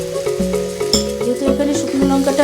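Dried chili spice sizzles in a frying pan for a vegetarian curry, with close, loud frying crackle under rhythmic scraping and clinks of a stirring utensil against the pan.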